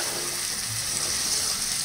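Local potatoes sizzle steadily in hot oil in a pan over a lowered flame, making a continuous close, even frying hiss with no pauses or talk.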